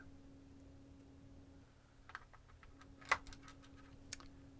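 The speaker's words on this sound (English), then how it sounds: "Just watch me rebuild this keyboard." Computer keyboard being reassembled by hand, with scattered soft clicks and taps of keys being fitted, one sharper snap in the middle, close and quiet over faint steady hum.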